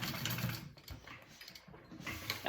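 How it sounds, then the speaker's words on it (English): A home sewing machine runs over a bag seam, a faint, rapid mechanical whir with a brief pause in the middle before the stitching resumes. "I'm gonna sew over that one more time so it's secure"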